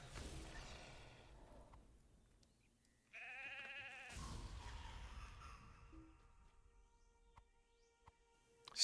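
Sheep in the fantasy game The Lord of the Rings Online give two bleats, a short faint one followed by a longer wavering bleat, close and clear with quiet game ambience around them.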